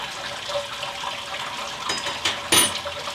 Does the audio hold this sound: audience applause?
no